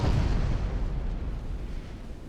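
A battleship's flash fire explosion in the naval strategy game Ultimate Admiral Dreadnoughts: a loud, deep, broadband blast at the start that rolls on as a rumbling roar and slowly fades over about two seconds.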